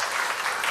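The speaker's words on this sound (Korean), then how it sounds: "한번 박수 한번 하시죠." A church congregation applauds its choir during a service: steady, dense clapping fills the moment on its own, with no voices over it.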